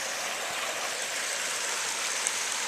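Water in Amazon Headwaters Creek rushes along a hillside hiking trail, an even, continuous hissing flow, moderately loud and with no voices.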